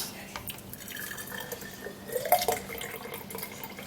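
A homemade early-morning drink is poured through a sieve, with a steady trickle and dripping of liquid running close by throughout the short stretch.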